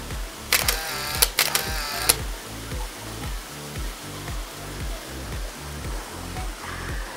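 A camera shutter clicks rapidly several times in a quick burst, close and sharp, over the steady rush of a waterfall in Ensenada.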